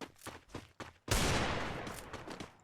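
Video game gunfire rings out in a one-on-one match: a few separate shots or footsteps, then a loud close burst of rapid fire that fades into scattered shots.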